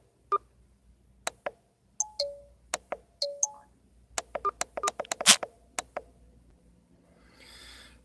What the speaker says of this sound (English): I silenced the phone